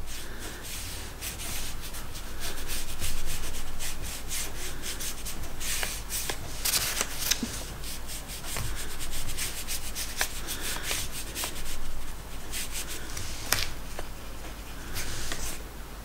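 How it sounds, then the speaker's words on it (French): A brush spreads violet watercolour paint and water across watercolour paper in close, repeated soft scrubbing and swishing strokes that rise and fall, with no voices. "Je mets une couche de peinture, puis après je remets de l'eau pour essayer de l'étirer."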